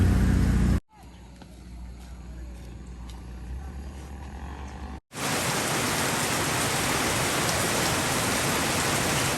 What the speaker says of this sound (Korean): 많이도 온다 밤마다 비가 오네요